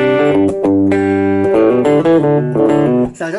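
Electric guitar through a Boss eBand JS-10 with a distorted rock tone plays a short run of chords and riffs, loud and close, trailing off at the end with no voices.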